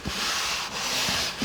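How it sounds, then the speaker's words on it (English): Light hand sanding of dried drywall patch compound on sheetrock, steady back-and-forth scratchy rubbing strokes close up, with brief pauses between passes and no talking. "we're ready to do a light sand on this"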